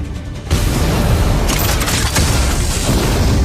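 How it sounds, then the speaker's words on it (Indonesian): A loud gunshot blast in an anime duel between young combatants sets off a sudden booming burst after brief quiet, then a dense, sustained rumble of noise continues without speech. "Xiao Hongchen melepaskan tembakan yang mengagetkan semua orang"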